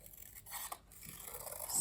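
Scissors snip and scrape through paper for a junk journal, close by and quiet, with a few short cuts and rustles over a couple of seconds and no speech.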